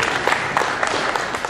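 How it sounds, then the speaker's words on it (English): Audience applause filling a room, dense steady clapping for about a second and a half with no voices above it. "we should give him a big clap."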